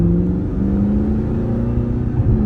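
A car engine pulling hard in automatic as the gearbox shifts up, a loud close steady drone and whir that rises in pitch and holds, with no speech.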